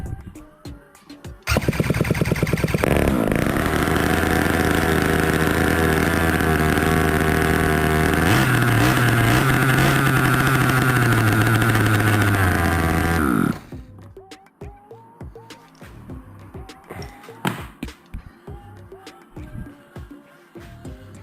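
Homemade engine block of an ICU Jetsurf motorized surfboard, rebuilt after long standing, fires up and runs loud for about twelve seconds with shifting revs, then cuts off; scattered clicks and handling noises follow.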